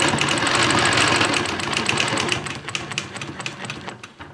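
A sewing machine quilts a line along a Squiggy ruler, running as a steady fast rapid stitching rattle that slows and stutters into separate clicks as it stops.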